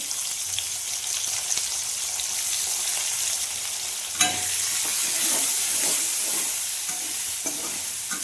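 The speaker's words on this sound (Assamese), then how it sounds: "তাৰ লগতে মই গ্ৰেট কৰি থোৱা পিঁয়াজখিনি দিলোঁ।" Grated onion goes into hot oil with frying potatoes, giving a continuous close sizzle broken by a sharp knock and repeated scraping stirs of a spatula.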